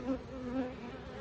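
Steady, droning buzz of many honey bees close by at a Langstroth hive, a continuous low hum with slight wavering pitch and no voices.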